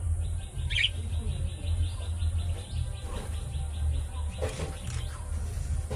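Homer and giribaz pigeons in a mixed pair call with soft coos and short chirps among other birds, faint but steady over a low background hum, with no talk.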